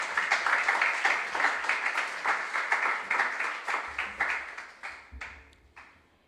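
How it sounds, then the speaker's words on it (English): A studio audience at a junior science and maths quiz show claps steadily, the applause dense at first and then thinning out and fading away over several seconds. "let's give our contestants a big round of applause"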